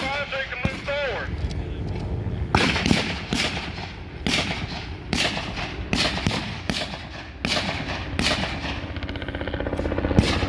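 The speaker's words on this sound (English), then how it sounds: "he's giving him cover fire so he can move forward" Blank rifle and machine-gun cover fire crack loudly and rapidly across a World War II Pacific battle reenactment field. The sharp shots come in irregular bursts, and voices can be heard between them.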